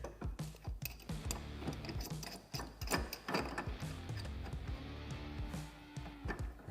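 A pipe wrench ratchets and clicks against a tie rod on a Polaris RZR XP Turbo, a quick run of close metallic clacks and ticks in an uneven working rhythm.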